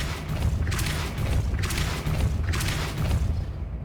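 The Depulso force spell in Hogwarts Legacy is cast three times, each a heavy booming blast about a second apart, loud and close over a continuous low rumble.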